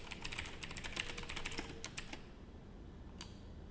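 Someone types code on a computer keyboard in rapid, uneven bursts of crisp key clicks, close and clear, slowing to a few isolated taps before a final keystroke.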